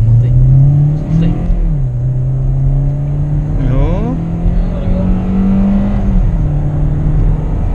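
A 2018 Hyundai Elantra 2.0 accelerates hard from inside the cabin, its engine droning loudly and rising steadily in pitch with smooth, linear shifts, while a voice speaks briefly over the engine note.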